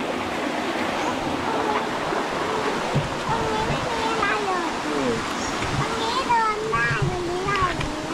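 A steady rush of a forest stream below a waterfall fills the background while people talk over it, the splashing constant throughout.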